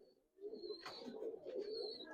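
Giribaz pigeons at a pigeon farm give low, rolling coos that swell and continue steadily for about two seconds, close and fairly loud, with a faint high tone above and no talk.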